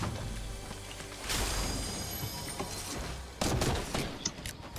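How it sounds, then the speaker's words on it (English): Bursts of rapid gunfire in a battle royale video game crackle across a dense, noisy mix, with two louder volleys standing out and fainter shots scattered in between, no clear voices. "Yeah, I just got shot at."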